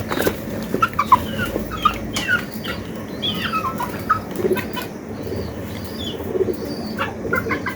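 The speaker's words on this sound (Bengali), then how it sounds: "3টা মোরগ 3টা মুরগি" Chickens around a yard, three roosters and three hens among them, cluck and call in scattered bursts over several seconds, with a few sharper chirps rising above a steady low murmur of the flock.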